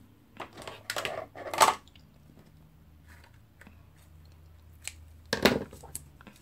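Scissors cut a length of ribbon while an Easter treat bag is being made. A couple of crisp, separate snips sound close by against a quiet background.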